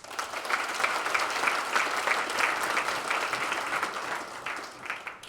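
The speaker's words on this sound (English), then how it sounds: "a round of applause for Technion" Steady applause from a sizable crowd, a dense continuous patter of clapping that holds for several seconds before easing slightly.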